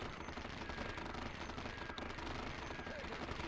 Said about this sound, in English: Ready to artillery attack!